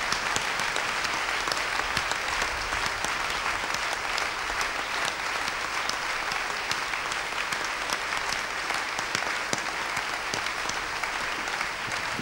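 A church congregation applauding loudly and steadily during a service, continuous dense clapping from a crowd without a break, with no clear talking.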